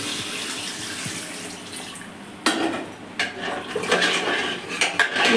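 Water splashes and gushes into a metal pot with clanking of cookware, the pouring growing louder and sloshier partway through; nobody speaks.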